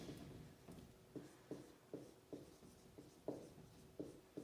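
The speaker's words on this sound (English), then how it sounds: "let me write the note" Pen strokes on paper as notes are written for a lesson on probability, with quiet repeated scratches in an uneven rhythm of short strokes.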